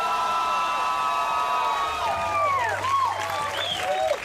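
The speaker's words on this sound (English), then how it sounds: "One more time for Jeremiah, everybody." Audience at a stand-up comedy show claps and cheers steadily throughout, with a musical tone sliding over the crowd noise.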